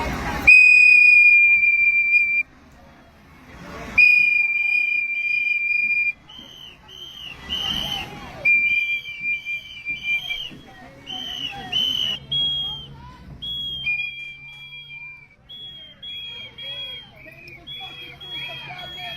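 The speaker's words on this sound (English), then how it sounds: "Bring your whistles" Protesters blow whistles at an arrest scene, loud shrill blasts that start and stop repeatedly, some long and some in quick trilled bursts, overlapping one another, with voices and crowd noise in between.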